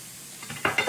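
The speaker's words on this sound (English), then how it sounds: "Let me just give my onions a stir." Onions stirred in a pan, with a soft sizzle that builds into a few louder scraping, crackling bursts near the end of this short moment.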